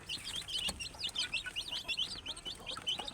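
Chicks peep in a dense, continuous chorus of high chirps on a farm, with occasional hen clucks mixed in nearby.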